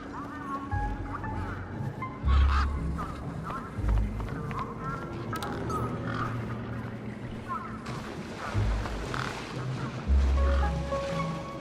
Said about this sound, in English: One particularly large and familiar bird stood out from the rest.